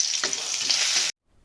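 Crushed garlic drops into hot oil with fennel seeds and slit green chillies and sizzles loudly. A bright, steady hiss lasts about a second, then stops abruptly into silence.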